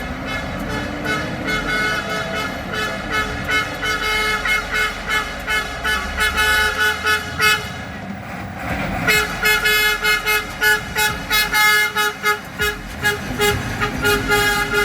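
Heavy road traffic rumbles steadily on a long hill in St James while a vehicle horn sounds repeatedly in short honks, loud and close, with a truck passing.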